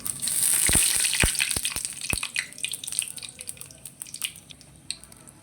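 Panch phoron spices hitting hot oil in a pan while cooking egg potato dal, a bright crackling sizzle with sharp pops and spits that thin out over a few seconds, close and fairly loud.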